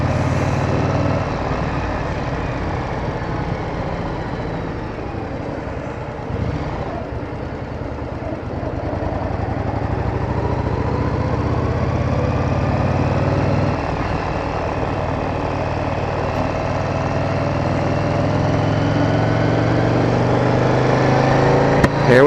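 A motorcycle engine runs at a steady idle and low drone in heavy traffic on a hot day, a continuous near rumble with slight swells, alongside nearby vehicle and truck noise.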